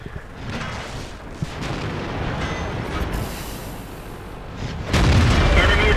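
Tank cannon fire in World of Tanks from a German VK 3002 (DB) medium tank, deep booms over rumbling engine ambience with a heavy blast near the end and no talk.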